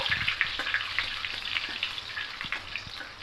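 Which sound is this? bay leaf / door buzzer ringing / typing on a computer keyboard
bay leaf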